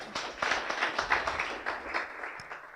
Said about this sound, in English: Please give Professor a round of applause.